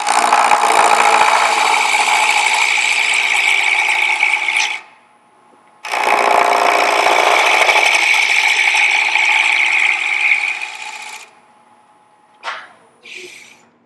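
Wood spindle turning on a lathe with a spindle roughing gouge, two long loud bursts of harsh continuous cutting hiss separated by a brief pause, followed by short quieter scrapes.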